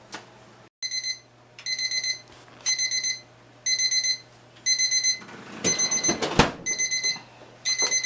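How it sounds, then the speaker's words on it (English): Loud electronic timer alarm beeping in repeated rapid bursts with short gaps, close by, plus a brief clatter partway through. "the timer is going off"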